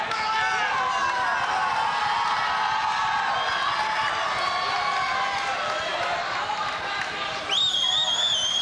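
Juniors in a high school gym cheer during a 1990 spirit week event, a dense continuous crowd roar with shouting voices and rising whistles or shrieks near the end.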